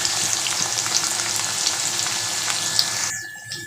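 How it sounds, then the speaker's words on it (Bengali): Onions frying in oil with whole garam masala and bay leaves, a steady close sizzle with faint crackles and stirring, fading away at the end. "লাল লাল করে ভাজা হবে।"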